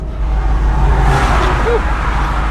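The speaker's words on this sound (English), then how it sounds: "it's just non-stop trucks flying by us" Trucks flying past on a highway beside a parked RV, a broad rushing roar swelling and fading as vehicles go by, loud and close.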